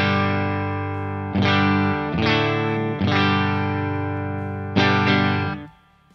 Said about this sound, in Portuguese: esse aqui é o som da guitarra clean